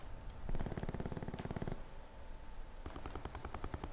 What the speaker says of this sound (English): I just heard a gunshot over here by you, Duck.